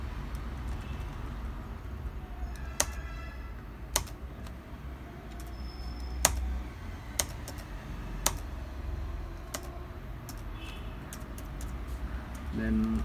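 Keys tapped on a computer keyboard while entering an invoice in accounting software, a handful of sparse, quiet clicks spread over a steady low background hum.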